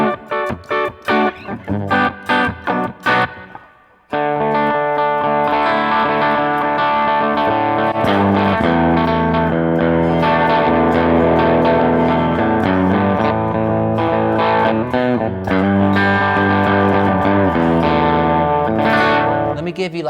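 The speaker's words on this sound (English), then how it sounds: "Let me give you like a traditional rock kind of distortion." Airline Mercury electric guitar from Eastwood Guitars through a rock distortion effect, a few choppy strummed chords, a brief drop to silence, then sustained loud distorted chords and riffs ringing on for the rest.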